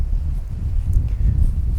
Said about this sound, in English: It's quite windy right now